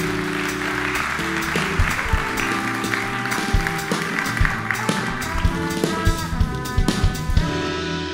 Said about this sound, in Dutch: Dames en heren, een hartelijk applaus voor Jaap Henk Hoepman.